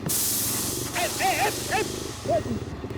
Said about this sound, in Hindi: देखो मेरा टायर पंक्चर हो गया।